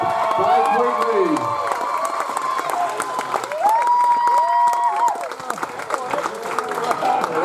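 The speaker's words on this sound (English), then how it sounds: "Guys, can I have a big round of applause for Scott Meek and his sidekick, Blake Wrigley." Wedding guests applauding and cheering after a best man's speech, a steady crowd roar with clapping and whoops that swells and dips throughout, with voices shouting over it.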